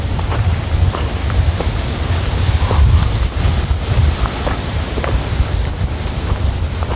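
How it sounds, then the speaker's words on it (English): Loud, constant wind buffeting the microphone in a low rumbling roar on a lakeside hiking trail along the Duck River near Cullman, Alabama, with faint outdoor background underneath. "It's a little breezy today."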